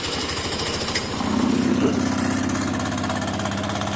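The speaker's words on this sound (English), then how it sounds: "Has that beautiful clutch rattle that everyone loves." A Kawasaki ER5 cafe racer motorcycle engine runs at idle with a clattering clutch rattle, a close, steady mechanical chatter that briefly rises in level, with a voice talking over it.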